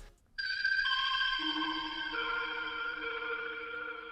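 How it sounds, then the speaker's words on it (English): Bright synthesizer melody for a rap beat, sustained tones layering in one after another after a short silent start, steady and fairly loud with no voices. "This synth sounds fire."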